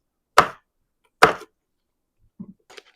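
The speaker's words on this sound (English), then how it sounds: "So we'll finish cutting this onion." A knife chops through an onion on a cutting board: two loud, crisp thuds about a second apart, followed by a few faint soft taps and small kitchen noises.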